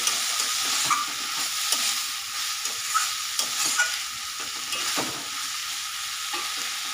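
Boiled banana flower and shrimp stir-frying in a pan give a steady, close hiss of sizzling, broken by regular scraping stirs about once a second and no talking.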